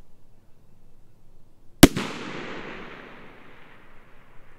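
A single sharp crack from a precision rifle on a long-range course, loud and close, followed by a long rolling echo that fades over a couple of seconds.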